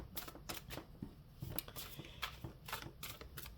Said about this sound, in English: I think I want to shuffle one more time.